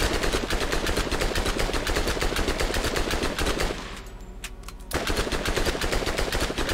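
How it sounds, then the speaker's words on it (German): Rapid, dense bursts of gunfire from a shotgun in the video game Borderlands, loud and continuous, with a brief quieter lull in the middle before the shooting resumes. "Eine Shotgun."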